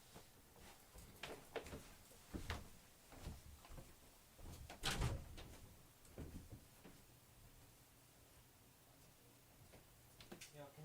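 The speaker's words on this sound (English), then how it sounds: "can you guys please stop closing the door?" Door being closed indoors, a series of faint knocks and thuds with one heavier bang midway, then quieter clicks in a room, with some low voices.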